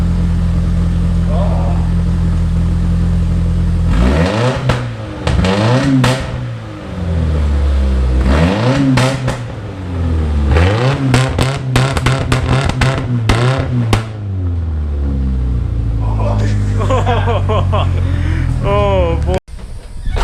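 A car engine fitted with a newly welded exhaust idles, then revs repeatedly in rising and falling bursts, loud and close, with a rapid string of blips mid-clip before dropping back to a rumbling idle; voices can be heard faintly near the end.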